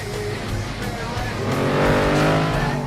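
A battered race car crosses the finish line in the FlatOut demolition racing game, with a loud droning engine that rises in pitch as it revs, mixed with tire squeal and game noise.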